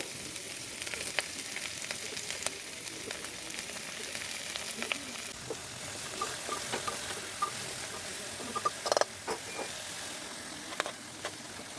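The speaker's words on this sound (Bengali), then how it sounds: "দিয়ে হালকা একটু লাল করে ভেজে নেবো" Sliced carrot, raw papaya and beetroot frying in oil, a steady close sizzle with occasional stirring clinks and no talk.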